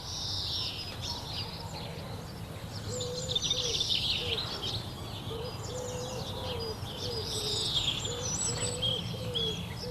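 Blue tits foraging in trees give high, thin chirps and twittering calls, repeated in short bursts against a soft woodland background, with lower cooing from other birds beneath.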